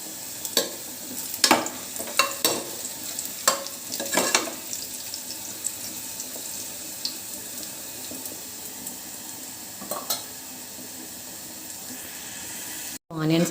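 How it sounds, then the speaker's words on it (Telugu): Onions fry in a pan for paneer dum biryani, a continuous sizzle broken by repeated sharp scrapes and knocks of stirring, busiest early, then a steadier hiss. "ఇలా ఫ్రై చేసుకోవాలి."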